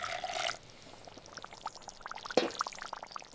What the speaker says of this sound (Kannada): ತೆಂಗಿನ ಹಾಲು ಮತ್ತು ಹುಣಸೆಹಣ್ಣು ನೀರು ಸೇರಿಸಿ ನಿಧಾನವಾಗಿ ಕುದಿಸೋಣ.